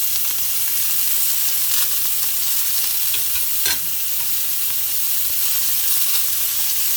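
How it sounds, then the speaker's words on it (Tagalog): Shrimp seasoned with salt and pepper sizzles loudly and steadily on a hot grill, a close, unbroken crackling hiss with one brief louder flare partway through and no talk. "We will just grill this guys like 2 to 3 minutes"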